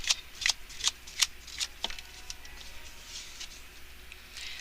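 Tarot cards are shuffled in a series of quick crisp riffles and flicks, close and fairly quiet, tapering to soft rustling.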